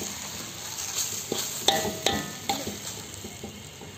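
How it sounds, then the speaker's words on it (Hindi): Kachori masala spices stirred in a pan over low heat, with soft scraping strokes and a few light clinks of a spoon against metal under a faint steady sizzle, close by with no talking. "मसाला यहाँ पर दोस्तों बढ़िया तरीके से मिक्स कर लेते हैं पूरा एकदम बढ़िया"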